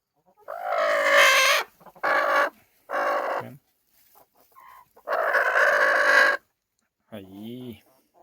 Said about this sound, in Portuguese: Essa é uma galinha mura.